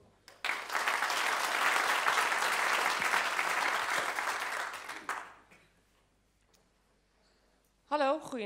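A burst of audience applause for a speaker at an evening talk, loud and sustained for about five seconds before fading to quiet, after which a voice begins speaking.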